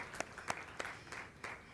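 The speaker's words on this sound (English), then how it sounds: "let's give them a big round of applause as an offering first" Audience applause during a Unitarian Universalist Sunday church service: several scattered claps ring out over a soft, steady patter, fairly faint and distant.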